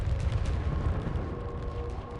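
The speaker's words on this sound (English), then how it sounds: "The mothership is fighting the swarmers with her sweeper cannons." Sweeper cannons on the mothership in the Homeworld video game keep firing at swarmer fighters, making a continuous rumbling barrage of low booms and bursts at fairly steady loudness.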